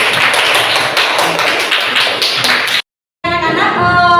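Children in an Indonesian primary classroom clap together in a dense, steady burst of applause that stops abruptly, followed after a brief silence by a tonal, musical passage.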